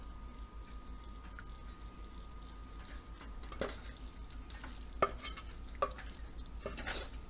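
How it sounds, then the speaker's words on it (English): Chicken karahi with kasuri methi being stirred in a kadai: soft continuous scraping and faint sizzle, punctuated by a few sharp spoon taps against the pan, close and quiet, with no talking. "Mix it little bit"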